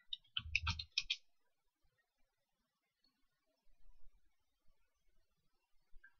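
Computer keyboard typing at a desk, a quick burst of keystrokes at the start followed by a few scattered faint taps, quiet and close with no talking.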